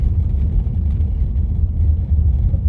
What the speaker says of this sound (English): Ooh, that's a rough surface. Ah, my tyres.